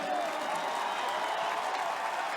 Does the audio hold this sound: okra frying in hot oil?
no